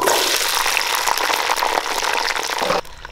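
Peeled small onions (shallots) hit hot oil in a pan during a village-style mutton curry, giving a loud, steady broadband sizzle and crackle that runs continuously, then drops sharply near the end as the frying quiets.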